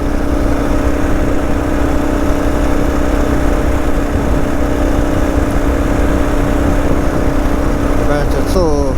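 A car engine holds steady just under 4,000 revs at about 95 while pulling up a hill on a road trip toward Seeheim and the Fish River Canyon in Namibia, a continuous loud drone with road and wind noise throughout.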